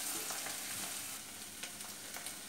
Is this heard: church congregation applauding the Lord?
no